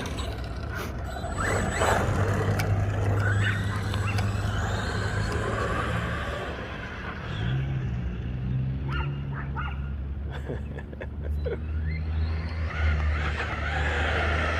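Arrma Granite 3S V3 radio-controlled car driving with high gearing, a continuous whining motor hum with gear rattle and ratcheting clicks, rising and falling as it runs outdoors, no speech.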